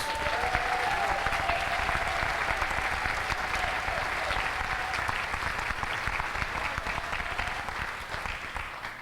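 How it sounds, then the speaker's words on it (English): A large audience applauds steadily and loudly for a minister and his wife at a Poor People's Campaign rally in San Francisco, the dense clapping filling the whole stretch and tapering slightly near the end. "Give them both a big round of applause."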